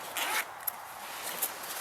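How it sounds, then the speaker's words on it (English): An interior zip on a Savotta Jääkäri L rucksack being opened outdoors in the woods, a couple of short, close zipping rasps with quiet pauses between them. "a zip on the inside"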